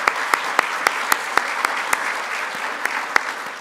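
An audience claps for participants in fundraiser events at a community gathering. Sharp, evenly spaced claps stand out over a softer bed of general applause throughout.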